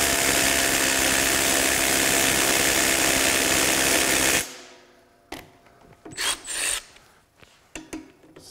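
A cordless impact wrench on setting 3, fitted with a shallow-well socket, runs in one loud, continuous rasping burst for about four seconds, then cuts off, leaving scattered quiet clicks and handling noises.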